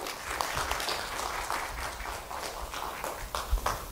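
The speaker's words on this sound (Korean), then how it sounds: "큰 박수 부탁드리겠습니다." Audience applause fills the room, a dense, sustained patter of many hands clapping at moderate volume.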